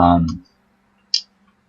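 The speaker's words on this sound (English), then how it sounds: "you're gonna hear my controller" A game controller clicks once, sharp and close, after a brief stretch of talk, while a faint steady vibration hum runs underneath throughout.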